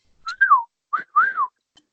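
A pet bird whistles a short tune, three clear, sliding phrases rising and falling, loud and close in a quiet room, with a tiny chirp trailing after.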